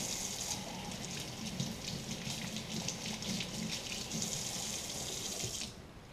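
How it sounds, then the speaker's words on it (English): A tap runs steadily into a sink as hands are wetted under the stream, a continuous close splashing rush that lasts about six seconds and then stops abruptly. "Use water to wet your hands."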